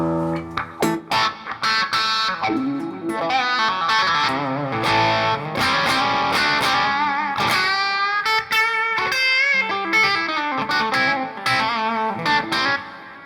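Distorted electric guitar through a SUNN Model T amp on channel 1 with the club setting and mid-position tone controls, playing busy gritty chords and riffs, loud, close and continuous with no talking.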